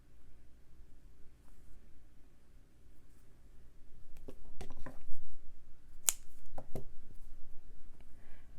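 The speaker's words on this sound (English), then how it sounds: "And then I can just trim down the cording right to the end of that ornament" Scissors snip through decorative cording at the end of a stitched Christmas ornament, giving several quiet, crisp cuts in close succession against a near-silent background.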